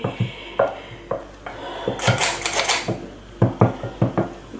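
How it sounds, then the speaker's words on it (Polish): A spoon or whisk gently folds flour into cocoa sponge cake batter in a bowl, making rhythmic close clinks and taps with a short scraping rustle midway. "będziemy porcjami dosypywać mąkę i delikatnie mieszać"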